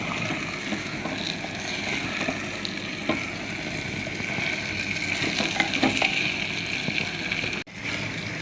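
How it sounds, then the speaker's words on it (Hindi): Paneer stirred with spices in a pot for handi paneer: constant close sizzling and frying hiss with scraping spoon strokes and occasional metallic clinks, steady and loud, cut by a brief dropout near the end. "पनीर को अच्छे से मिक्स कर देंगे मसालों के साथ।"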